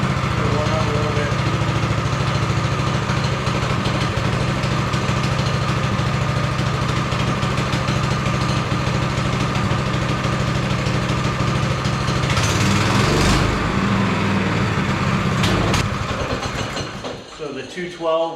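A 212 go-kart engine idles steadily while warming up, a loud continuous low drone that runs unbroken before fading and sputtering near the end.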